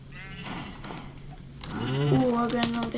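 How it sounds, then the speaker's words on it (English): Sheep bleating in the video game Minecraft, several wavering bleats that grow louder and closer toward the end over steady game sound, with a voice speaking throughout. "Oh, I got another explosive sheep."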